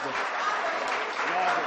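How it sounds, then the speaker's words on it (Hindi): Audience applause at a Hindi-Urdu mushaira poetry recital, a steady dense wash of clapping filling the short moment without a break, fairly loud and close. "जोरदार तालियों से इस्तकबाल करें दोस्तों।"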